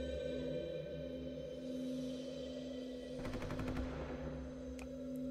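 Gunfire in The Walking Dead video game: a short burst of rapid shots around the three-second mark, cutting through a steady game hum and background score, with a sharp single crack shortly after.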